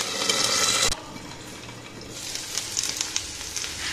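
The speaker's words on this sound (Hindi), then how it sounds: "आलू को हम मीडियम फ्लेम पे इसे फ्राई करेंगे और इसे हम ढक देंगे" Potatoes shallow-fry in a pan over a medium flame, sizzling loudly at first and then more softly, with bursts of crackle as they are stirred.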